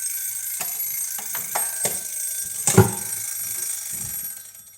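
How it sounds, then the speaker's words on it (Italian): An alarm clock rings continuously in a kitchen, a high, steady electronic tone with intermittent clunks and handling noises beneath it. "la sveglia più lunga del mondo"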